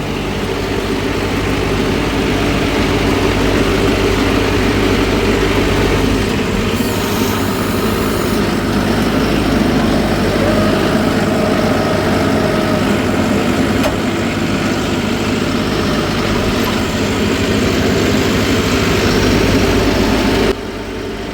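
A Mahindra Novo 755 CRDI tractor pulling a 9-tyne cultivator, its diesel engine running with a loud, steady low rumble that holds for about twenty seconds before easing slightly at the end.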